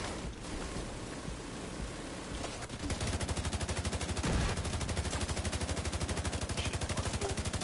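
A turret machine gun in Division 2 fires a steady, rapid stream of rounds after a few seconds of rushing background noise, loud and continuous through to the end.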